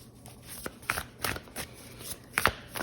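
Oracle cards being shuffled by hand in a quiet room, a run of soft papery riffles and slaps coming in short uneven bursts, close and fairly faint, with no talking.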